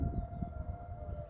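A Federal Signal 2001 civil defense tornado siren in Jackson, Tennessee wails as a steady, distant, faint tone over low outdoor rumble.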